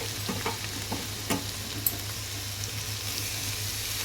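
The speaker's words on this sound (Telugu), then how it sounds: "ఇప్పుడు మనం ఇందులో పుదీనా, కొత్తిమీర, కరివేపాకు 3 కలిపి వేసేసుకుందాం." Mint, coriander and curry leaves frying in a tempering for tomato, coconut and soya chunk rice, giving a steady soft sizzle with a few stirring scrapes and clicks, close and moderately quiet, with no voices.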